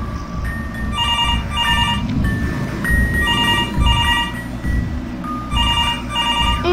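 A telephone rings in repeated short bursts of bright electronic trills with brief gaps between them, loud and close over a rumbling background, with no talking.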